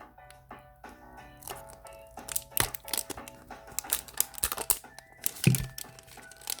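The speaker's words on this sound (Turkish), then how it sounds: "çok güzel Nilay'la sürpriz yumurtamı açtım" Crinkly foil wrapper of a Niloya surprise egg being torn open and crumpled by hand, a close series of irregular crackles and sharp rips swelling toward the end, with no talking.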